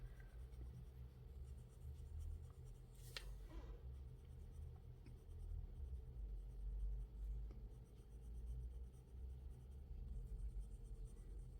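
Colored pencils scratch steadily across paper in a continuous, close-up scribbling texture under a low background rumble, with no talking.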